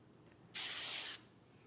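A single continuous burst of hair spray, about half a second long, hisses close up onto a dancer's competition hairstyle, with quiet before and after.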